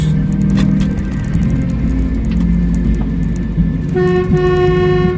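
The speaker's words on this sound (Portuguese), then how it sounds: "Instalei uma buzina elétrica para não precisar ligar o compressor" An electric horn fitted to a Volkswagen Kombi sounds one sustained, bright tone near the end, after a stretch of low idling vehicle noise.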